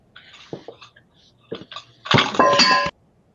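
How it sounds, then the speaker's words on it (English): A few light clinks and taps, then a loud crash of breaking glass that rings briefly before cutting to silence; close by, no talking. "I dropped my cocktail glass, but I got it here."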